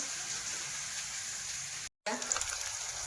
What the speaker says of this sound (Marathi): आणि कांदा टोमॅटो व्यवस्थित भाजून घ्यायचं.